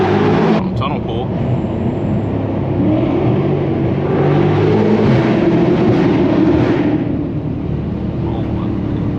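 A BMW F90 M5 accelerates hard through a tunnel, its engine a loud, sustained roar that swells with reverberation and then eases off as it shifts, with someone talking over it.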